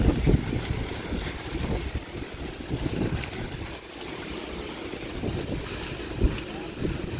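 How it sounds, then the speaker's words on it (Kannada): Strong gusts on a terrace garden buffet the microphone in rough, rumbling bursts that swell and ease over a continuous roar of wind. "ಸಿಕ್ಕಾಬಟ್ಟೆ ಗಾಳಿ ಬೀಸ್ತಾ ಇದೆ"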